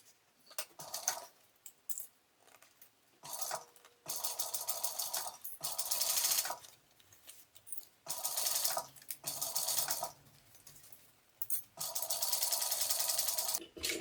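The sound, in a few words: sewing machine stitching a tote bag lining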